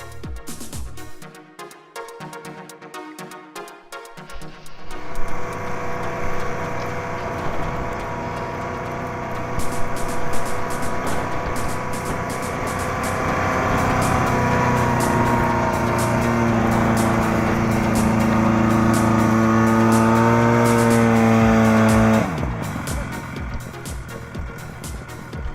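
A Buran snowmobile engine drives through a snowstorm on a grayling fishing trip. It starts after a few seconds of quieter noise, then drones loudly and steadily with rising revs before cutting back near the end.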